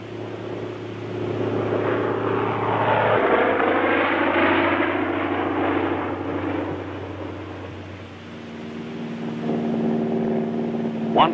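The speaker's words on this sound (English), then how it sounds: "American Cub planes again proved invaluable in spotting enemy strong points." Second World War American Cub spotter planes drone overhead during the Normandy fighting. A loud, sustained propeller-engine roar shifts in pitch as the aircraft pass, with no speech over it.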